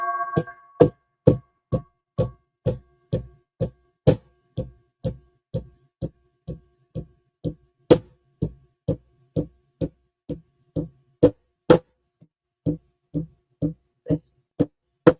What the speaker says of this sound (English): I gotta beat my drum on that one.